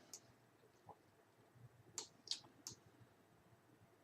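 Computer mouse clicking, several crisp separate clicks spaced irregularly over a quiet background, soft and close.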